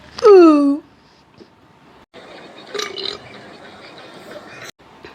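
A single loud, close burp sounds at the start, followed by quiet room noise and faint talk.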